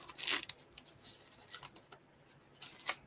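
A paper envelope is torn open by hand at close range, giving bursts of ripping and crinkling paper in uneven pulls, with no talking over them.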